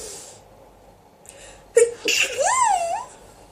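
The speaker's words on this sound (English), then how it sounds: "I'm gonna sneeze." A single close hay-fever sneeze, a sharp inhale building into a loud burst with a wheezy, pitched tail, surrounded by quiet.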